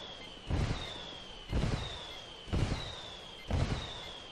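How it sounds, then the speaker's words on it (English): Rebel mortar fire strikes in Ghost Recon Wildlands, heard as four evenly spaced blasts about a second apart, each a sharp low-heavy burst with a fading tail, some way off and without talk. "I called the rebels for mortar fire."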